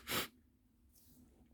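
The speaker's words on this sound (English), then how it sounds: "I need to sneeze." A single short, sharp sneeze erupts indoors close to the microphone, then fades to quiet room noise.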